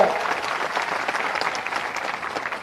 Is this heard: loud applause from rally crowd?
yes